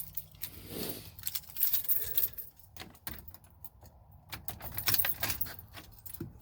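Keys jingle and clink close by in several short bursts as they go into a car ignition, with faint rustling and clicks between them; no one speaks.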